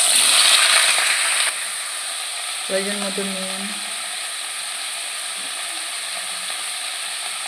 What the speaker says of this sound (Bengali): এবার কড়াইতে কিছুটা তেল গরম করে সবজিগুলোকে আমি দিয়ে ভেজে নেব